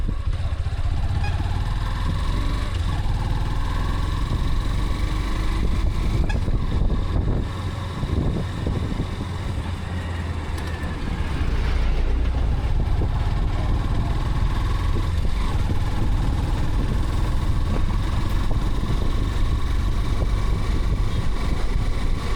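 A 2025 Honda CB200X motorcycle engine under way while riding, a steady loud drone with low rumble and wind noise throughout and only slight changes in pitch.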